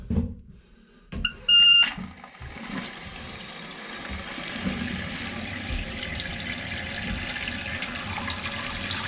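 After a couple of clicks and a brief beep, water starts rushing steadily into a toilet tank, a continuous hissing flow that holds at an even level.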